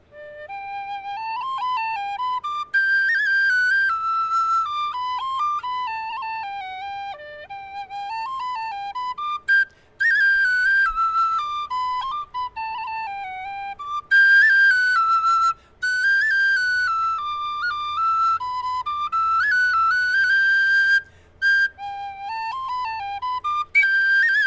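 A solo Tony Dixon tin whistle playing a lively, bright melody in the second octave, with quick runs and ornaments broken by brief pauses for breath. It sounds clear and close, with no other sounds behind it.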